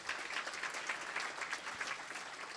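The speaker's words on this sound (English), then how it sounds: "Let's give him a round of applause." Steady applause from a conference audience welcoming a guest speaker at a wine congress, dense and even clapping throughout with no voices on top.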